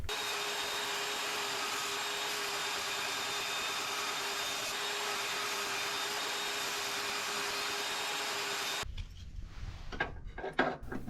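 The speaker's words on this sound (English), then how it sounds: "I'm intentionally leaving this a little bit big so that I'll be able to fit it using the belt grinder." A belt grinder shapes a metal rust repair patch for a Dodge Ram rocker panel and cab corner, a steady loud whirring drone lasting about nine seconds before it cuts off into quieter handling clatter.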